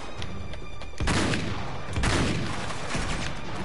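Gunfire in the video game Uncharted 3: a steady spray of shots with heavy booming bursts around the first and second seconds, loud and close, continuing without speech.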